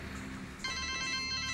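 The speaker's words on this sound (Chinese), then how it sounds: "兰心，你妈找你，接电话。" A telephone ringing in a shop setting, its bright electronic trill starting partway through and repeating steadily over a low room murmur, close and clear with no talk.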